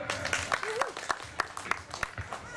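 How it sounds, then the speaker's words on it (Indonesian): An audience claps during a stand-up comedy contest at an Indonesian university anniversary, scattered sharp claps with some crowd murmur rather than a full ovation, fairly faint. "Tepuk tangan dulu."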